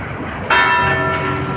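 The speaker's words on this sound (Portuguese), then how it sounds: "É, tocou até o sino até." The bell of Igreja Matriz Santana, a historic town church, rings out with one bright, clear stroke. It is loud and nearby, and its metallic tone rings on and slowly decays.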